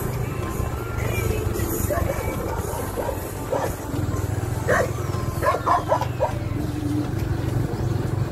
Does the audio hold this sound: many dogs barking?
yes